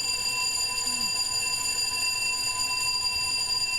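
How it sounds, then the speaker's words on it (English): A fire alarm goes off with a steady, high-pitched electronic tone carrying sustained harmonics, constant and unbroken throughout, heard faintly through a stream over a low background hum. "Sounds like we have a fire alarm"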